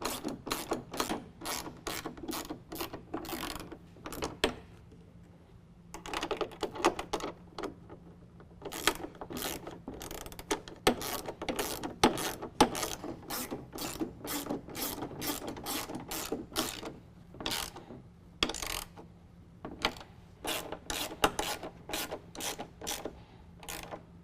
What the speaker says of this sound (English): now we can use a 7/16 socket on the head and a 3/8 ratchet on our nut